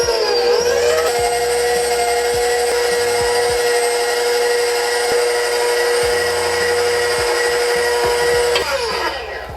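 Electric mixer whipping cream cheese and whipped cream at medium-high speed for a no-bake blackberry hazelnut cheesecake, a steady loud motor whine running continuously with small knocks of the beaters against the bowl, no talking.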